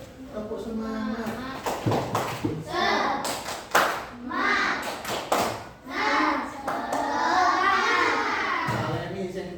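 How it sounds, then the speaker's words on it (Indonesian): Schoolchildren in a classroom chant a rhythmic spirit cheer while clapping in patterned bursts, their voices rising loudly between sharp hand claps, led by a teacher's calls. "Kita tepuk semangat, bisa tepuk semangat bisa?"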